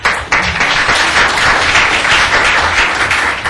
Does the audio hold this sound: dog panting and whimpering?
no